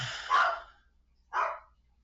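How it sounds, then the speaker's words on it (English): A dog barks twice, loud and fairly close, with a short pause between the two barks in an otherwise quiet room. "The dog's barking for some reason now."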